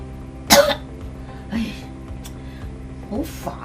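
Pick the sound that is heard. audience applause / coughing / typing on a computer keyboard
coughing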